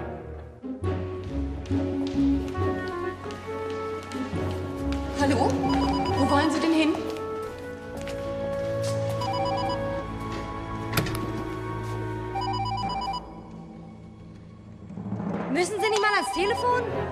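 A telephone rings repeatedly, its bell tone recurring over a busy stretch of music and voices, loud and close, with a final burst of ringing near the end.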